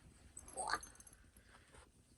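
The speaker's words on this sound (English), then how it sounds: "We got a new puppy." A new puppy gives a brief high whimper that peaks near the middle, faint and close, against quiet room noise.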